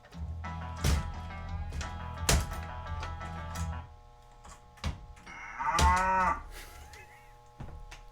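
A pinball machine plays recorded cow moos among mechanical thunks and clacks, with several deep moos spread through the stretch, close and clear, and no talk.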